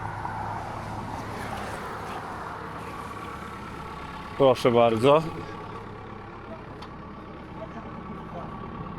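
An excavator left running on a sidewalk at a construction site idles with a steady low mechanical hum throughout, while someone speaks briefly partway through.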